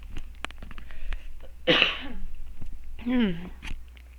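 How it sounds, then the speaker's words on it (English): Two rough throat-clearing bursts, the second ending in a voiced rasp, with faint tapping and background noise between them. "I'm going to need to clear my throat real quickly."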